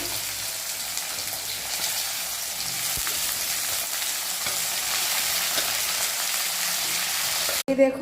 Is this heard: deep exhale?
no